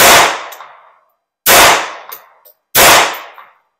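Three loud, sharp pistol shots a little over a second apart from a Beretta 950BS Minx firing Remington .22 Short, each with a decaying outdoor ring, close and alone.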